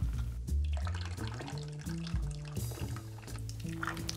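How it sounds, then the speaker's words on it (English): A splash of Sprite lemon-lime soda is poured into a layered tropical cocktail, a soft liquid trickle half-buried under steady background music. "I'm gonna use a little bit of Sprite. And he said you only need a splash."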